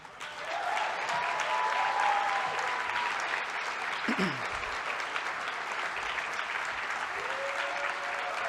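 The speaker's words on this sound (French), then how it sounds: "veux à nouveau remercier Mégane et Camille, qu'on peut applaudir à nouveau." Sustained audience applause at a Parti Québécois political speech, steady and loud throughout, with brief cheering voices and a short tonal whistle-like sound partway through.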